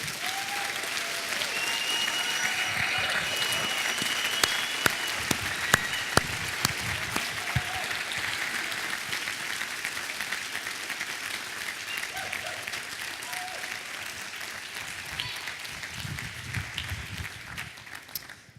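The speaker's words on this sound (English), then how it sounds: "Give them a round of applause, please." A conference audience at DjangoCon EU applauds the organizers, with a long, steady wash of clapping that carries a few sharper individual claps and slowly thins toward the end.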